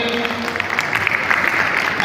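Audience clapping at a community society's annual festival and Holi gathering, a dense, steady patter of many hands with background voices mixed in.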